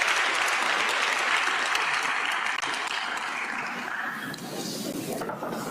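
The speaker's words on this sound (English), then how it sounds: "A round of applause for them, ladies and gentlemen." Sustained applause from a large conference audience at the Africa Youth Conference at the United Nations, a dense steady wash of clapping that fills the clip and fades slightly toward the end.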